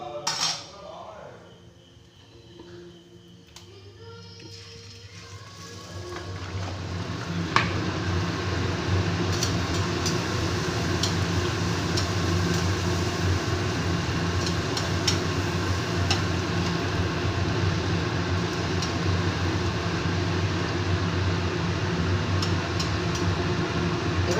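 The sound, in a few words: hing kachoris frying in hot oil in a wok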